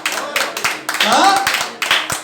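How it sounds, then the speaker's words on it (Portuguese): Church congregation clapping in rhythm, sharp close hand claps in quick bursts with short pauses, while a voice speaks or sings over them. "Pode aplaudir o Senhor."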